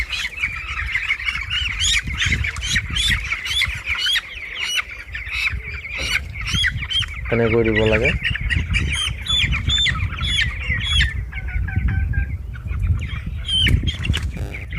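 Broiler chickens on a poultry farm in Assam squawk loudly and continuously, with wing flaps, while being given vaccine drops. A person speaks briefly beneath the dense, overlapping flock calls.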